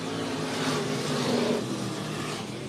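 Race cars roar past on the back straightaway of Sunset Speedway Park in Banks, Oregon, late in a short-track race, a steady, fairly distant engine drone with a slight swell as the pack goes by.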